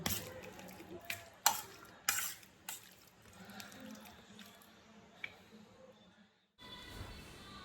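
Fish fries in a pan seasoned with garlic paste, pepper and salt, a soft sizzle under scattered utensil clinks and knocks, faint background voices, and a short silence before the frying noise returns louder.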